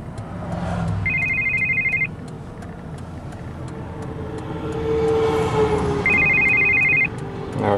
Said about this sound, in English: Showing the phone is receiving call.